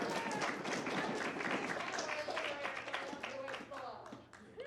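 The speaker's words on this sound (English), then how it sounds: "Let's give the Lamb a big round of applause" Dense clapping and crowd noise fill the room at a cosplay competition and show, steady and loud for several seconds before thinning out near the end.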